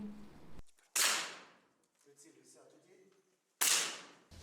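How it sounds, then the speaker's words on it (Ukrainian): Air rifle fired at a youth shooting competition: two sharp, loud cracks about two and a half seconds apart, with a quieter voice heard between them. "стріляє із пневматичної гвинтівки"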